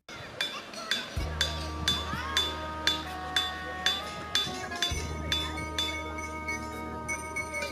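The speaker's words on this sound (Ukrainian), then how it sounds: "Вдаривши по будь-якому з них молотком, ви почуєте дзвін." Hammer blows land on ringing rocks in a Pennsylvania boulder field, each strike a bright metallic, bell-like clink with a lingering tone, repeating roughly every half second, close and clear over a low background hum.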